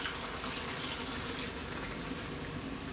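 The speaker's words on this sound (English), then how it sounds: "we're about to add more water now anyway" Cold water pours steadily into a pot of lamb curry, a continuous loud rushing splash with no talk.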